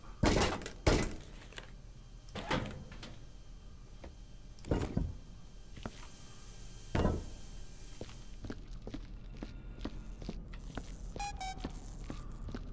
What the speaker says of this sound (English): So I'm assuming I'm going to need to throw this. It's like a destroyed toilet.